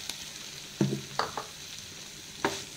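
Capsicum sautés in a pan with ginger-garlic paste over a low, steady sizzle, broken by a few brief spatula scrapes and knocks against the pan.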